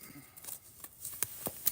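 Quiet riffling and soft slaps of tarot cards being shuffled close by, a few quick flicks in a short burst.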